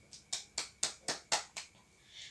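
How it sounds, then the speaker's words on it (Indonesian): Six short sharp bursts of clapping, evenly spaced about a quarter second apart, follow a group's presentation in a classroom lesson, fairly close and with no talking. "kita berikan dulu tepuk tangan karena sudah menyampaikan hasil yang baik"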